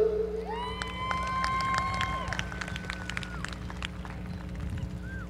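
A crowd at the Edcouch-Elsa ISD 2023 graduation ceremony cheers and claps, with shrill whistles and noisemakers over a steady roar that holds through the clip.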